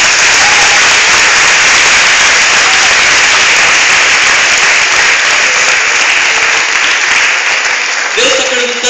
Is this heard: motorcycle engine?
no